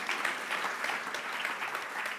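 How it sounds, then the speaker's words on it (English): An audience applauds at a live EU referendum debate. Steady, dense clapping from many hands fills the room throughout and stays fairly even in level. "Let's have a round of applause as well, please."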